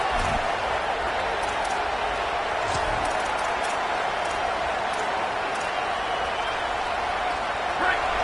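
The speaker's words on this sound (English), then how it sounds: "This crowd, full throat, splitting the eardrums and letting them know it's going to be a long day." Stadium crowd at a College Football 27 video game match, a steady loud roar filling the whole stretch with no break, a few faint higher shouts poking through now and then.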